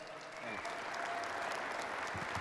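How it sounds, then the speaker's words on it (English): An audience applauds as Chad Hymas is introduced for a keynote at Affiliate Summit West 2015, a soft, distant wash of clapping that swells slightly with a faint voice over it. "Big round of applause, everybody"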